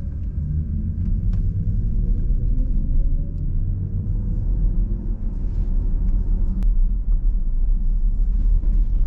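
An Audi SQ6 e-tron accelerating up a hill, a steady low rumble of road and motor noise that holds loud and even throughout.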